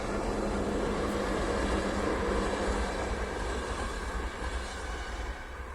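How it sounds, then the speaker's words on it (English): A train arriving near woodland, a steady loud rumble of rolling stock that holds throughout and eases slightly toward the end, with no voices. "and a train's just arrived."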